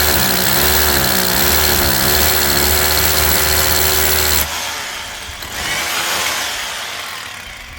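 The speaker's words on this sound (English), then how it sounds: "So now I have a reference point to go ahead and drill from out here" A power drill bores a hole through a plastic IBC rainwater storage container, a loud steady whine for about four seconds that cuts off abruptly, followed by quieter handling noise.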